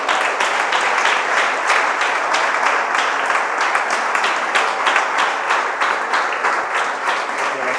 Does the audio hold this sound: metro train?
no